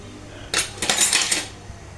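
Dishes, pots and utensils clatter while a few are being washed in a home kitchen: a short burst of metallic knocking and rattling lasting about a second, with no talk over it.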